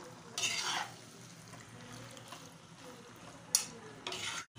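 Chicken veggie macaroni being stirred in a pan over a low flame, with soft scraping and a few sharp utensil clicks against the pan, fairly close and without talk.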